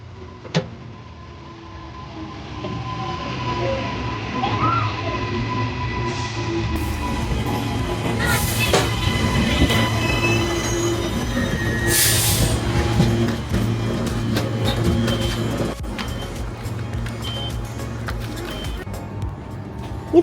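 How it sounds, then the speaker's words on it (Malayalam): A train pulls into a station in Brisbane, Australia, with a low rumble that builds and then eases, bursts of hissing brakes and mechanical clunks, and faint voices in the background. "ഇപ്പോൾ സ്റ്റേഷനിൽ ട്രെയിൻ വന്നുകൊണ്ടിരിക്കുന്നു"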